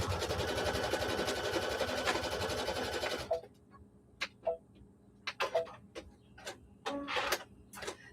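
Sewing machine stitching down a quilted pot holder, a fast steady whirring run for about three seconds, then stops followed by scattered clicks and handling taps.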